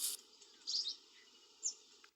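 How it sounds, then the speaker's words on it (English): Faint bird chirps sound in a quiet outdoor spot near a graveyard, a few short high tweets spaced apart over a soft insect hum. "All I heard was birds."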